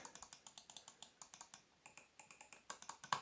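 Rapid, close clicking from a Logitech G305 Lightspeed wireless gaming mouse, a crisp series of sharp individual clicks in quick irregular bursts with brief pauses, heard alone.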